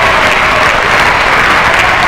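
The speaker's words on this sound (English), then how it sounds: "Give her a nice cheer, please." An audience at a school jump rope fitness event cheers and claps steadily, a dense wash of applause that fills the whole moment without pause.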